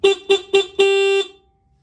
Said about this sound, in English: the green one over here is our horn